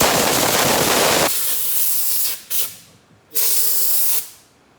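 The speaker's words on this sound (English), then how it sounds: "Blow all that dust out of these little fret ends." Compressed air blasts fret filings and dust off a guitar neck during fretting, a loud close hissing rush followed by two shorter sharp bursts with a brief pause between them.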